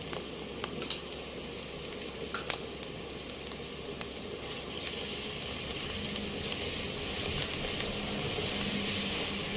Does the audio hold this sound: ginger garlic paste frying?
yes